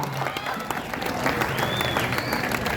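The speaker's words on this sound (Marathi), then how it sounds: "टाळ्या टाळ्या टाळ्या टाळ्या।" Applause and cheering from a crowd at a traditional Indian kusti wrestling match at a market yard, a dense, steady patter of clapping that fills the scene without pause.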